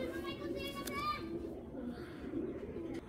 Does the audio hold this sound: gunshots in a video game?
no